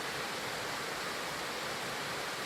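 Güzeldere Waterfall near Düzce pours in a constant, dense roar of falling water, loud and unbroken throughout, with no voices over it.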